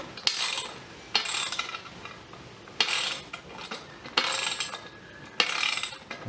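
Bursts of metallic ratcheting click from a socket as a bolt is tightened, with an open-ended spanner holding the other side during a Scott Bonnar 45 frame and soleplate rebuild, five short close bursts separated by pauses.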